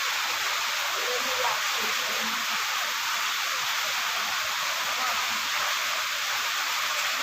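Light rain falls outdoors in a constant soft hiss with no breaks, while a person speaks briefly over it.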